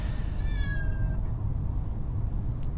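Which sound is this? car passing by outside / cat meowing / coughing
cat meowing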